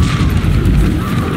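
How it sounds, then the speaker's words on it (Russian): Heavy booming artillery cannon fire in the video game Call of Duty: Infinite Warfare rumbles continuously, deep blasts overlapping with crashing noise in a loud battle scene. "Пушки «Атис» все еще стреляют по нашему флоту!"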